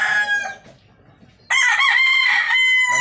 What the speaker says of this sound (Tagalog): Dami po nilang alaga mga manok.